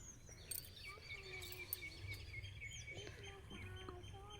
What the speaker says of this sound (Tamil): இந்த கிளி சத்தம், இந்த குயில் சத்தம்